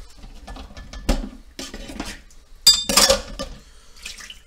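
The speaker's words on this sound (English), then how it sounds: "you got to run your faucets all the time at hot water" Hot water runs from a kitchen faucet in fits and bursts, splashing and pattering into a sink with a couple of louder gushes and clatters, close by and with no talking.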